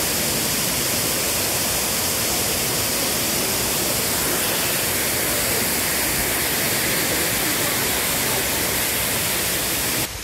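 A waterfall in Bilaichhari, Rangamati, roars close by, a loud, constant wash of falling water that fills the whole stretch without a break.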